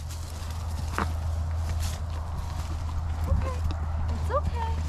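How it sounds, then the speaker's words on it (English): Horse hooves clop on the ground at an uneven pace close by, over a low steady hum with a voice murmuring in the background. "That's a good horse, Bird."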